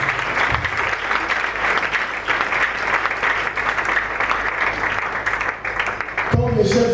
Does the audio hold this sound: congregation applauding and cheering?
yes